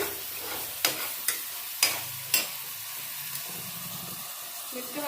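Masala fries in hot oil with cauliflower in a pan, a soft continuous sizzle broken by four or five sharp scraping stirs of a spatula, close by.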